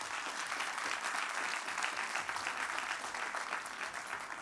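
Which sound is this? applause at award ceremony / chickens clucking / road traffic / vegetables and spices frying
applause at award ceremony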